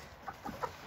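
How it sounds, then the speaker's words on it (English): A rooster gives a few soft, short clucks spaced out over a moment, faint and close against quiet background noise. "You're a rooster."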